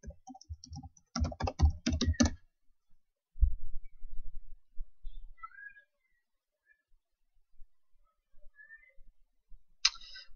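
Rapid clusters of computer keyboard keystrokes while logging in, close and fairly quiet, followed by soft low thumps and a few faint cat meows, then a final short burst of key clicks.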